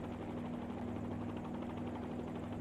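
A simulated helicopter hovers steadily in a confined-area landing, its rotor and turbine making a continuous droning hum with a sustained tonal whine and no pauses.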